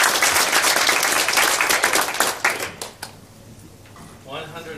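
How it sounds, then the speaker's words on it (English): An audience at a Ministry of Awesome event in the Coffee and Jam series welcomes a speaker with brisk, loud applause that thins to a few scattered claps within three seconds, then a voice speaks. "Please bring, give him a round of applause."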